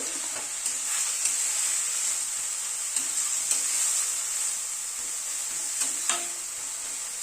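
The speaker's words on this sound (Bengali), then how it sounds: "নুন হলুদটা দিয়ে মোচাটা আবার একটু নেড়ে নিলাম।" Chopped banana flower with salt and turmeric sizzles steadily in a hot pan, while a spatula stirs it with a few light scrapes and taps against the metal, and no voices are present.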